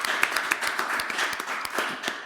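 Scattered clapping from a small group at a school governing board meeting, a few hands making distinct sharp claps with audible gaps, fairly close in a quiet room.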